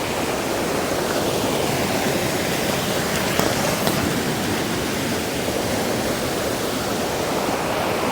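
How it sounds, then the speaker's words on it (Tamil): Ladies Falls waterfall at Hogenakkal, a broad unbroken roar of rushing water, loud and steady throughout with no voices. "அதாவது இது வந்து லேடிஸ் ஃபால்ஸுங்க."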